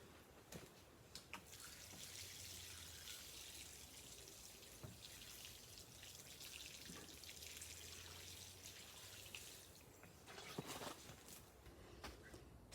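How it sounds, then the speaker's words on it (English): Water splashes and trickles steadily onto garden soil around a newly planted potato, a soft, continuous pouring with small drips and bursts, fairly faint and close by. "Get some more water in around the soil."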